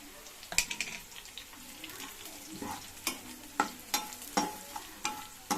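Boiled chickpeas fry with coriander powder and chili powder in a pan, a quiet sizzle broken by a series of regular spoon taps and scrapes against the pan, close by.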